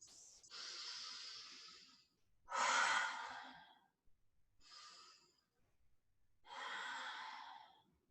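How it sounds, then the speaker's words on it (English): Deep, full breaths in and out during a guided healing ritual, four long airy inhales and exhales with quiet pauses between them. The breathing is close and alone. "Full inhales, full exhales."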